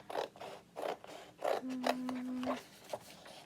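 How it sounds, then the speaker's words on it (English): Scissors cut along drawn lines in paper for a layered chalk craft shadow box, a series of close crisp snipping and scraping strokes with short pauses between them, quiet and without speech. "And then I'm just going to cut on these lines"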